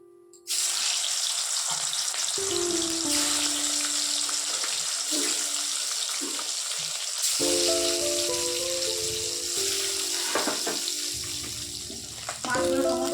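Katla fish pieces fry in hot oil, producing a loud, continuous sizzle that starts abruptly and holds steady, with scattered clinks and spatter bursts and brief tonal hums in the background.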